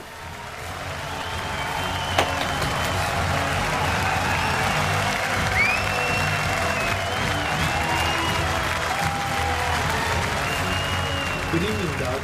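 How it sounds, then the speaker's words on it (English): An evening audience at a cardiovascular physiology talk gives a warm, sustained round of applause for the doctor, a steady wash of clapping with faint voices and a whoop, continuing evenly throughout. "Please give him a warm round of applause."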